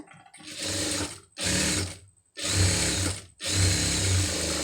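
Sewing machine stitching lining cloth onto a sleeve, running in four sustained motor-driven bursts separated by short pauses, loud and close with no talk.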